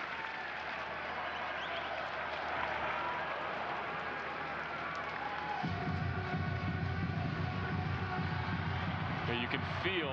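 Steady crowd roar at a Major League Baseball game, Los Angeles Angels at Kansas City Royals, swelling into a louder, fuller cheer partway through, with voices carrying over the continuous ballpark din.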